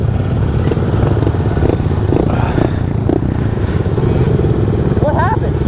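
Motorcycle engine roaring loud and close as the rider pulls a wheelie while upshifting, a continuous rough drone with clatter and wind, and people talking briefly over it.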